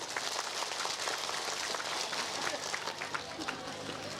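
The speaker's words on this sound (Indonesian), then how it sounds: "Maka tepuk tangan buat Pak Kades kita Bu" Audience applause for the village head at a Maulid religious gathering in Tanjung Beringin, a sustained crackle of many hands clapping at moderate distance, steady and fairly even with voices mixed in.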